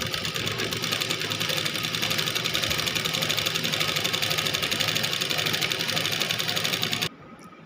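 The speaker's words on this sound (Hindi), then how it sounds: "यहाँ पे हम मशीन को रख के बिल्कुल सीधा सीधा यहाँ" Sewing machine running steadily as it stitches a straight line along a salwar hem, a continuous close mechanical whir with a rapid needle rhythm for about seven seconds before it suddenly stops.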